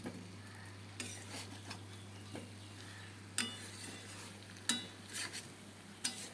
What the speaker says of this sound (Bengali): তো এবার আমি আলু পটলটাকেও দিয়ে দিলাম, দিয়ে একটু ভালো করে কষিয়ে নেব।